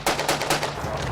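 Blank rounds fired from guns on a film set for an alien-invasion war movie, a rapid burst of loud, sharp overlapping gunshots in quick succession, close and sustained across the whole moment.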